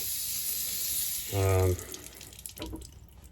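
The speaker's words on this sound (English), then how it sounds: "I'm just rinsing the sink out." Tap water gushes into a bathroom sink during a rinse before a straight razor shave, a brief loud burst of running water with softer splashing and trickling around it, close by.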